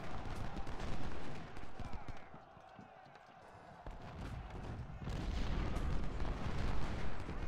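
Massed musket and cannon fire rumbles through a Civil War battle in the strategy game Ultimate General: Civil War, a dense, distant crackle and boom that swells, dips, then builds again, with no voice over it.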